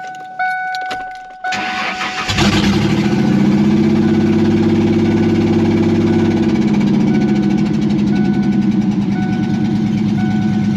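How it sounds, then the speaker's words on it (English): A Mustang that sat in storage for 20 years cranks briefly, then catches and settles into a loud, steady idle close by, running evenly without anyone talking. "Just gonna run it for a minute so that you guys can hear it run"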